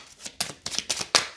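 Tarot cards are dealt onto a surface in a few quick, papery flicks and slaps, spaced about a beat apart, close and fairly quiet with no talking.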